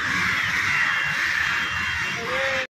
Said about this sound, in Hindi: ये रहे कौवे